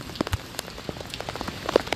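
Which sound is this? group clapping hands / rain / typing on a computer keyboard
rain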